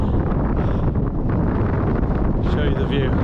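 Bitter wind blasting a hilltop on an East Cheshire walk near Lyme Park, roaring steadily into the microphone as loud, continuous buffeting with gusts.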